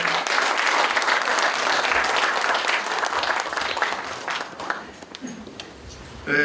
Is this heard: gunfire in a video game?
no